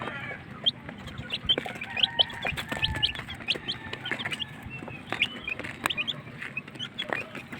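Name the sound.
chickens clucking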